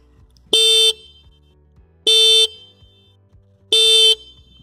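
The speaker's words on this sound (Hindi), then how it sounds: "प्रीटी लाउड खूबसूरत हॉर्न है।" Suzuki Gixxer SF 250 motorcycle horn sounding three loud, even honks of about half a second each, with regular pauses between them and a low idle rumble underneath.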